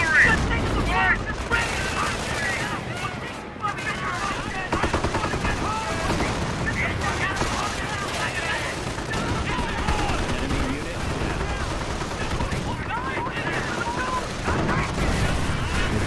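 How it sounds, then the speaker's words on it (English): Artillery and small-arms gunfire from the Company of Heroes war game: dense, continuous battle noise with booming blasts and rattling shots layered throughout, and a voice calling out over the din. "Artillery!"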